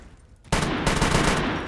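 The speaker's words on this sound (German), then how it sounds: "einer schießt" Sudden loud burst of sustained gunfire in the survival game SCUM, a dense roaring volley that starts abruptly after a quiet moment and keeps going to the end.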